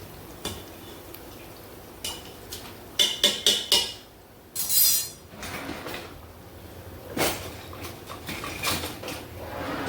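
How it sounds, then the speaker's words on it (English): A beef chuck pot roast is lowered into a metal stock pot and shifted around for a braised marsala roast, giving a quick cluster of close metallic clanks and clinks, then a few softer knocks and scrapes. "Okay, so go ahead and add it into the stock pot here. Move it around a little bit."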